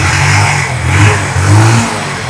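A used motorcycle engine runs after a self-start and is revved in loud, repeated surges, rising and falling twice over a throaty, close idle.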